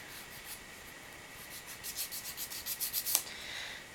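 Quiet, rapid scratchy rasping comes in short rhythmic strokes, building slightly louder, like a file worked gently back and forth over a small surface, filing gel polish off a fingernail.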